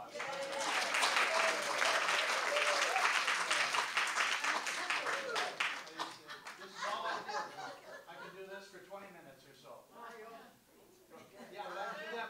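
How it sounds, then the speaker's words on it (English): An audience at an arts event gives a round of applause, a strong burst of clapping that tapers off after several seconds, followed by scattered chuckles and talking. "Give Lynn a big round of applause."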